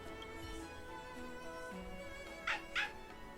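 A small dog in the game Honkai: Star Rail gives two short, sharp yips near the end, with faint whimpering and quiet music throughout.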